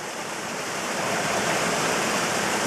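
Water rushes and pours steadily into the container of an early-1800s Japanese water-powered crushing device, a loud, continuous broadband splash that swells slightly as it fills, with no voices.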